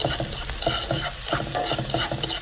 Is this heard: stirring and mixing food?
yes